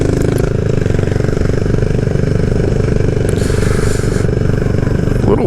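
A CBR-engined Honda Monkey or Grom motorcycle at riding speed, its engine droning steadily and loud throughout with a rough mid-range rumble and wind noise, no voices over it.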